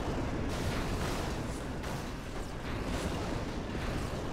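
Gunfire aimed at a Phantom dropship during a Halo 2 Anniversary speedrun on the Metropolis level, heard as a steady dense rumble of shots and blasts at moderate level with no talk.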